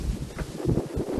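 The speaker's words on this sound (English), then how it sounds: "Oh, it's getting windy." Wind buffets a microphone outdoors in a brief, low rumbling gust with no other clear sound.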